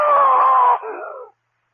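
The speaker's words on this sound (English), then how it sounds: "I screamed so loudly there was blood in my throat." A woman lets out a loud, piercing scream in a radio drama, one sustained shriek that breaks into a shorter, falling cry and then cuts to silence.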